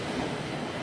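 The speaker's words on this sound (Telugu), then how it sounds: "ఆ ప్లాట్ఫామ్లో ఏదో ట్రైన్ ఉంది" A train standing or rolling at a railway platform, a low continuous rumble with faint wheel clatter, moderately distant and steady for a brief moment.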